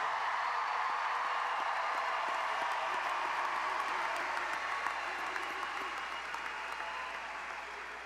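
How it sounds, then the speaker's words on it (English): Sustained applause from a large audience at a 2024 high school graduation ceremony honoring seniors, a dense, steady wash of clapping that holds throughout and fades slightly toward the end. "Audience members, how about one more big round of applause for our seniors tonight?"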